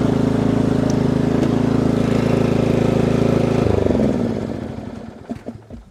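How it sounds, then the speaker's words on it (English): A Cub Cadet CC30H hydrostatic riding lawn mower engine runs loud and steady, then shifts tone and winds down, sputtering to a stop. "now I can mow. There you go. Now I'm mowing"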